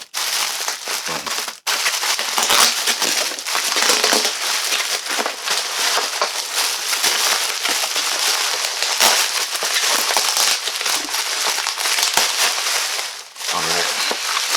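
Taped cardboard shipping box being torn open by hand: a sustained, loud crackling rip of tape and scraping cardboard with dense crinkling, continuing almost without pause, briefly broken near the start.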